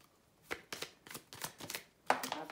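Cards drawn and flipped from a tarot-style deck: a run of quick papery swishes and slaps, several distinct card sounds with a sharper snap near the end, close and fairly quiet.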